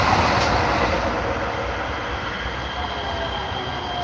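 Passing trains rumble steadily while their wheels give a long, high, metallic squeal over the top, loud and close throughout.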